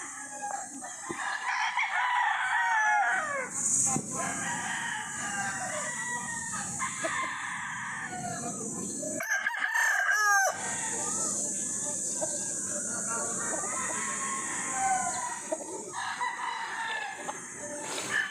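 Chickens and roosters crow and cluck repeatedly nearby, with several birds calling over one another in a busy farm yard, and a person's faint voice occasionally in the mix.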